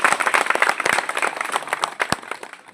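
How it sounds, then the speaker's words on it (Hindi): A crowd at an Azad Samaj Party political meet-up claps enthusiastically, with close, uneven bursts of handclaps. The clapping tapers off over a few seconds, leaving a few sharp individual claps. "भाई चंद्रशेखर आजाद जी के लिए एक बार जोरदार ताली से स्वागत और अभिनंदन करें"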